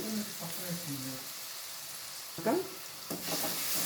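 Ground onion paste sizzles softly in a pan while it is stirred, with a few brief scraping clatters of the spoon against the pan; a voice is briefly heard.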